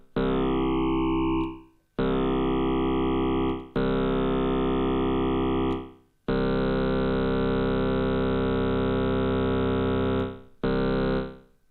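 Elektron Digitone FM synthesizer playing a series of sustained buzzy harmonic tones, each note cut off and retriggered, some bending or sweeping as they start, loud and alone with no voices.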